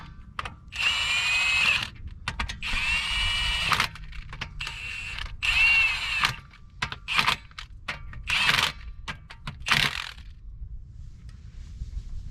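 A Milwaukee power tool runs in repeated bursts, whirring up and stopping as it works lug nuts on a Jeep during a trail repair, each burst a second or two long and close by.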